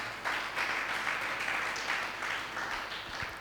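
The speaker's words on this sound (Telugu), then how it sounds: "గట్టిగా చప్పట్లు కొట్టాలా?" A church congregation claps together during a Telugu sermon, a dense, steady patter of many hands that fills the whole stretch at a fairly soft, somewhat distant level.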